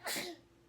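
A single sharp sneeze bursts out close by and then fades quickly into quiet room noise.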